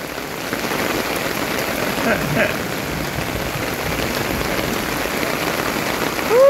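Steady rain falls on a hard surface, a continuous close patter with a brief brighter splash partway through and no talking.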